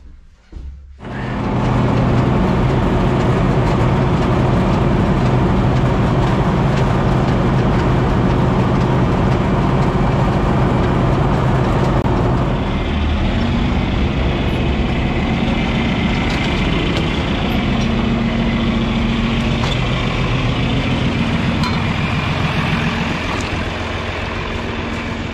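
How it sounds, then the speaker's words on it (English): An old farm tractor's diesel engine, cold-started with a shot of ether, catches quickly and runs loud and steady close by, a rough low idle continuing without pause throughout. "give this tractor a little snort of ether here"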